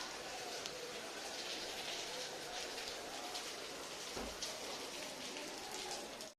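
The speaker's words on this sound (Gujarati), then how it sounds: "વરસાદ ચાલુ છે" Steady rain falls on a residential rooftop and surrounding surfaces, a dense continuous patter heard close and fairly loud throughout, with a brief low thud partway through.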